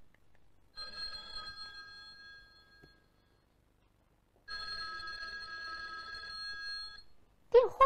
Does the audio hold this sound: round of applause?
no